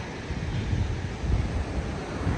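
Ocean waves on the Oregon coast under overcast skies, a broad continuous roar of surf mixed with wind buffeting the microphone, with gentle swells in loudness and no talking.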